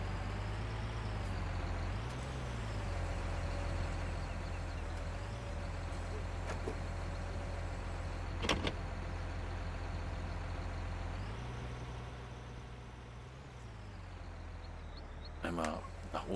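A farm vehicle's engine drones steadily and low in Farming Simulator 19, rising briefly in pitch as it drives, with a hiss and a clunk near the end and a voice talking over it.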